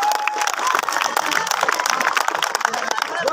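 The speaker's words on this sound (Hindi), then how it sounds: "जोरदार ताली लगाइए" Applause and cheering from a crowd at a school award ceremony for class 9 and 10 students, a loud, continuous wash of clapping with voices mixed in.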